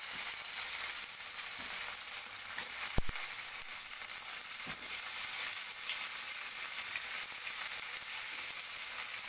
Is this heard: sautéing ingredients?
yes